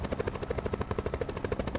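A helicopter in a Call of Duty match gives off a fast, steady rotor thump, fairly quiet and continuous, with no talk over it.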